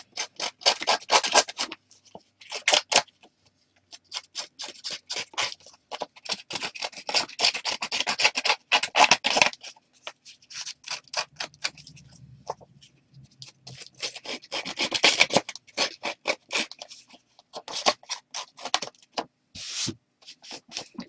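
Paper edge for a Christmas card being roughed up by hand, a dry rasping rub in repeated short bursts with brief pauses, close and fairly loud, no talking.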